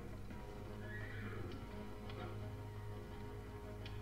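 Horses neigh and whinny nervously in a video game scene set amid the sounds of fighting, with faint hoof clip-clops under a steady ambient background.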